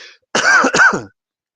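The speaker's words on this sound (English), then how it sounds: "Hold on, let me cough." A single close, loud cough-like burst of two quick throat-clearing pushes, alone with no talk around it.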